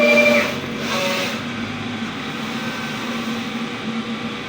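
A DTF printer runs a nozzle test, giving a steady mechanical whir with a brief higher tonal whine near the start, then a continuous hum at moderate loudness with no voices.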